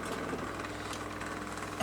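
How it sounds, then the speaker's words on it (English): An electric fan gives off a low, steady, tractor-like engine rumble with a faint rattling vibration, quiet and continuous throughout. "Sorry about the tractor noise, but I can't understand why my fan's doing that."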